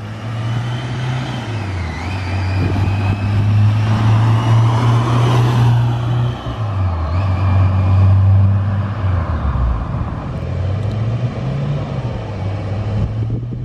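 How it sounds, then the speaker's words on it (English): A supercharged car with a deep aftermarket exhaust drives past close by, its low, mellow engine rumble rising and falling as it shifts, loud and steady throughout. "So let's get a quick sound clip of him driving by right here."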